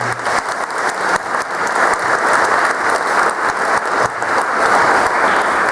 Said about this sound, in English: First I'd like to give a big round of applause to the people who put this on.